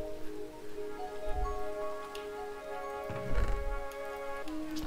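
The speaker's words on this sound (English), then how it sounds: "It's also started raining." Rain in the Minecraft video game falls as a soft, steady patter under quiet background music, with a couple of slightly louder bursts of splashing.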